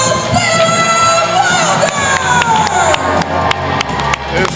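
Wrestling arena crowd in Fredericton cheering a local women's champion after her victory, loud sustained roar with whoops and shrill shouts, close and dense, with a voice faintly mixed in.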